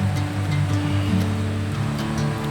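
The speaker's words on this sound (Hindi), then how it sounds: "मुझे लगता है झरने की आवाज़ जो है वो तेज़ हो गई है" Handavada waterfall in Dantewada, Chhattisgarh, roaring during heavy rain as a steady, dense wash of rushing water with a low rumble, continuous and unbroken throughout with no voices.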